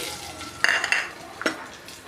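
Garlic sizzles in heated oil in a pan while cooking a brinjal chutney, a steady soft hiss throughout, broken by a couple of brief scraping, clattering stirs from a spoon against the pan, close and fairly quiet, with no talking.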